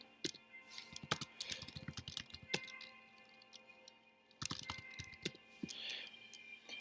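Bursts of rapid computer keyboard typing, close and crisp, arrive in two flurries separated by a short lull, with no talking.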